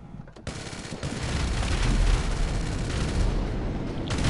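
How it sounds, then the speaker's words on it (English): Heavy gunfire and booming blasts from a PS4 shooter game fill the scene, a dense, continuous roar of shots and explosions that swells and stays loud throughout. "That was a flare gun!"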